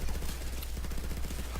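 Braton rifle firing in the game Warframe, a steady stream of rapid automatic shots with a dense rattling rhythm, close and continuous through the short stretch.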